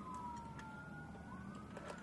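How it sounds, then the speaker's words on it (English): Emergency vehicle sirens wail outside a mall, a faint, distant rising and falling tone over low background rumble with no one talking. "You guys hear them sirens?"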